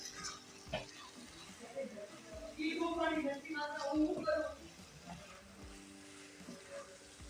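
Cabbage and pea curry with green garlic and coriander being stirred in a pan makes a soft sizzle and scraping, partly under a person talking in the middle.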